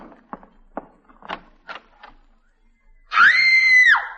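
A woman lets out a loud, sustained scream in an old radio comedy drama, coming right after a stretch of quieter background movement and voices.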